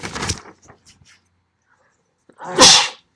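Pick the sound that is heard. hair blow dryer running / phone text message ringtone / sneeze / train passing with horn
sneeze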